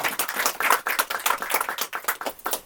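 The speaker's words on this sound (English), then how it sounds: "Clap it up." A steady run of hand claps in a quick, even rhythm, close and fairly loud, with no voices over them.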